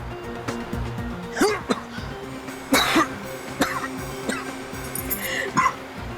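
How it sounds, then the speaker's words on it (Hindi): Several short, sharp coughs scattered over a quiet background, some in quick pairs, fairly close. "उन्हें ऐसे ही खांसी आती है।"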